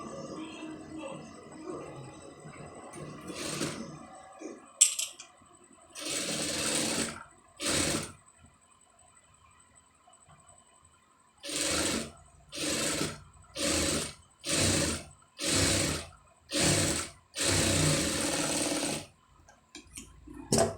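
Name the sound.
sewing machine stitching front neck piping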